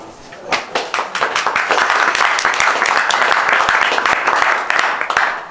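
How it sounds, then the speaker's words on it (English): An audience claps for a presenter at the IMPAKT media art event in 2014. Sharp individual claps start sparse, swell into dense applause that fills the room, then thin out again toward the end. "Please, warm applause for Otti Virasari."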